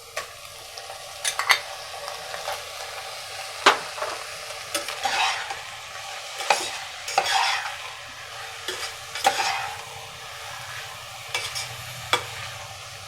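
Onion and tomato sizzle steadily in a hot pan while a spoon stirs and scrapes them, giving irregular sharp clinks and scrapes over a continuous frying hiss, close up, with no voices.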